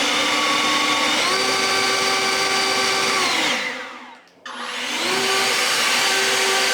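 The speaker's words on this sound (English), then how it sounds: "you can see how much power this Ego actually has. I mean, it blows pretty far." An Ego leaf blower on a YongerTool 56V 5.0Ah replacement battery roars loud and steady at close range, its whine shifting pitch, then briefly dips almost to silence before spinning back up to full power.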